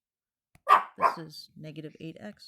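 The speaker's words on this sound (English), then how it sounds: "Excuse my dog." A dog barks twice, loud and close, in two sharp bursts, followed by someone talking calmly.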